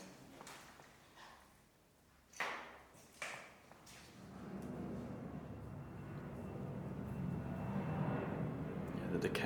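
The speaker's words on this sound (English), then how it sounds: "There's another plane goes over." A plane passes high overhead above a derelict canteen at an abandoned British Army base in Scotland, a broad, steady roar that swells in the second half and drowns out a few short knocks and bumps from earlier on.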